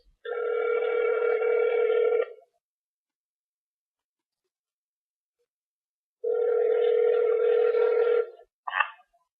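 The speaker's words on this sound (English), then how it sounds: "Let's call old Big up" A telephone rings back on an outgoing call, two long steady tones separated by a few seconds of silence, followed by a brief click as the line picks up, clear and close.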